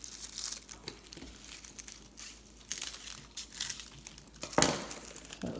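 Thick bottom ends of ni'au coconut palm leaves being trimmed, a series of close, dry crunching and crackling snips with a sharper snap near the end.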